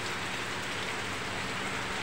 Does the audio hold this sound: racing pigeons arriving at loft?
no